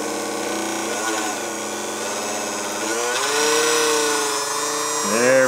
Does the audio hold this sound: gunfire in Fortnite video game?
no